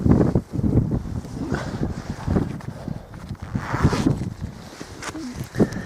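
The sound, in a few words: wind blowing outdoors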